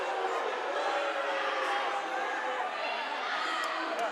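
A basketball crowd in a gym reacts unhappily to a referee's call, a steady, dense roar of voices with scattered shouts, close and loud throughout.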